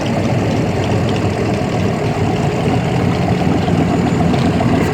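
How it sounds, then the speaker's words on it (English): A Corvette with a 427 engine idles at a fall car show, giving a loud, steady, deep rumble that holds evenly from start to finish. "This Corvette sounds as mean as it looks. 427."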